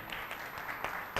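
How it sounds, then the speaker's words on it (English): A church congregation clapping during an English-language service, a short burst of scattered, fairly soft hand claps in a reverberant hall, with a sharper clap at the end. "Clap, clap, clap."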